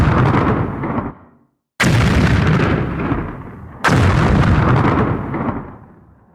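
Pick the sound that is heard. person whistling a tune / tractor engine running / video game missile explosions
video game missile explosions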